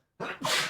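A single sharp sneeze, close and sudden, with a brief intake breath before the explosive burst.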